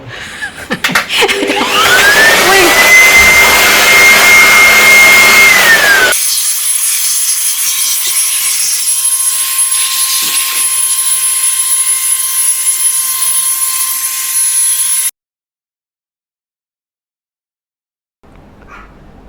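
A blower blasts air through a home air conditioner being cleaned, a loud close roaring whoosh that holds steady, shifts tone midway, then cuts off abruptly to silence before a faint restart.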